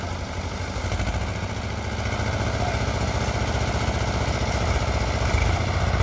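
A Swaraj 744 FE tractor engine running in a damp field during a tochan tractor pull, a steady mid-pitched diesel chug held close and constant throughout.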